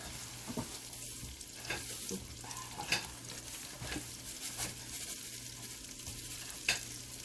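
Bell peppers sizzle and fry in a pan seasoned with salt and pepper, a constant crackling hiss broken by several sharp stirring scrapes and clicks, close and moderately loud.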